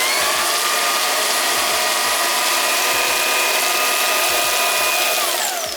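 A Shark wand vacuum cleaner runs with a loud, steady whirring roar and a thin high whine. It holds an even level throughout, then its pitch drops away as it winds down near the end.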